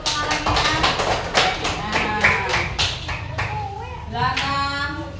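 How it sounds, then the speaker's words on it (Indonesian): A class audience applauds group 3 after a school group presentation: a run of sharp claps in the first half, thinning out, with a voice talking over and after it. "Terima kasih kepada kelompok 3. Kasih tepuk tangan lagi"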